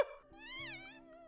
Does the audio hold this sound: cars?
no